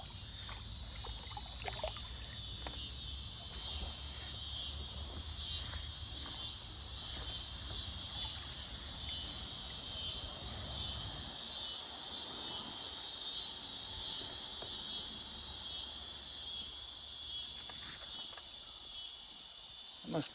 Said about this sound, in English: Must be cicadas.